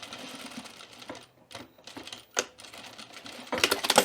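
A sewing machine back stitching across a button-up shirt seam runs in short bursts of rapid mechanical chatter separated by brief pauses, ending in a louder, denser run.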